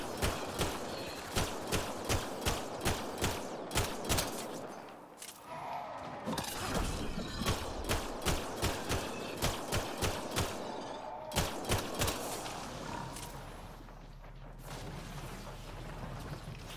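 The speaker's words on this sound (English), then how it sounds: "I hear a lot of gunfire." Rapid gunfire rings out in the Mass Effect Andromeda video game, a regular rhythm of sharp shots with denser bursts, continuing over a low rumble.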